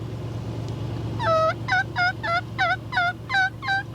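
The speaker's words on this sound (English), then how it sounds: "He gobbled." A wild turkey gobbles outdoors during a spring turkey hunt, giving a loud rattling run of repeated notes near an idling truck engine's low drone. No one talks over it.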